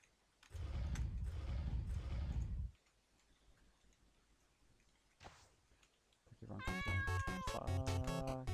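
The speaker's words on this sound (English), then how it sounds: "For some reason people love this cat." A cat meows, with a broad noisy burst followed by quiet gaps and later a run of rapid, rhythmic tonal calls near the end.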